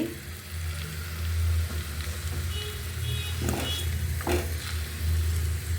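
Large pumpkin pieces fry in hot oil with a continuous close sizzle. A low rumble runs underneath, and faint clinks come from the pan now and then. No voices are heard.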